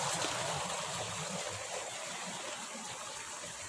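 Natural spring water flows steadily from above and trickles down into a pool below, a continuous close, even wash of water with no talk over it.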